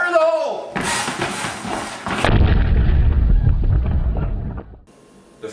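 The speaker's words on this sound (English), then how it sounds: "I got a homemade hand grenade, so back off, guys." A homemade hand grenade goes off with a heavy booming blast and a deep rolling rumble that fills several seconds before cutting out, after a brief voice at the very start.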